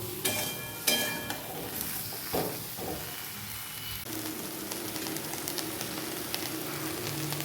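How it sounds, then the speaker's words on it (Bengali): Eggplant slices fry in a pan with a continuous close sizzle, punctuated early by a few sharper clatters and stirring scrapes, then settling into steady frying. "জাস্ট হালকা ভেজে তুলে রাখবো"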